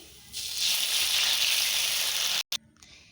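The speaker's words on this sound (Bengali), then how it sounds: "তেলটা আমার গরম হয়ে গেছে তেলের উপরে এবার আমি সরষা গুঁড়োটা দিয়ে দেবো" Water-soaked mustard powder paste poured over chopped green chillies in hot oil erupts into a loud, steady sizzling hiss lasting about two seconds before cutting off abruptly.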